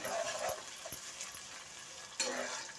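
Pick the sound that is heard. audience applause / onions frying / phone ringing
onions frying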